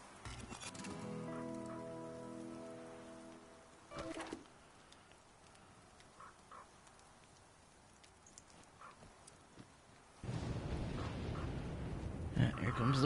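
Rain falling in the survival game The Flame in the Flood, a faint steady patter under other game sounds, with a louder burst of heavier rain near the end.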